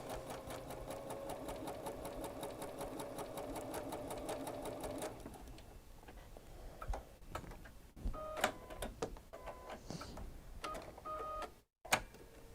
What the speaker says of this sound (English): Okay, so I just sewed on the line